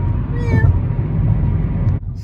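A pet cat named Kitty meows a few times in quick succession inside a moving car, close and clear over a steady low road rumble, with the engine noise dropping away at the end.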